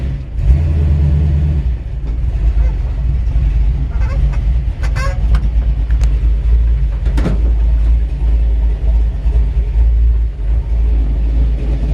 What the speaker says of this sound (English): Love the sound of this exhaust.